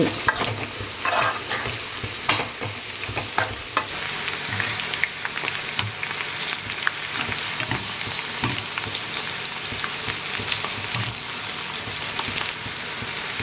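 Leafy greens fry in a hot pan with a continuous crackling sizzle, broken by occasional clinks and scrapes of stirring, close and fairly loud.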